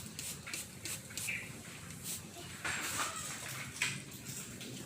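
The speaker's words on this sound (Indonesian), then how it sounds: "Ini bisa 2 hari sekali kita semprot." A hand spray bottle misting orchid plants, giving repeated short hissing spritzes at an uneven rhythm, close but fairly quiet against faint background shuffling.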